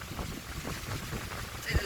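Wind buffets the microphone with a low, rumbling roar that pulses unevenly throughout.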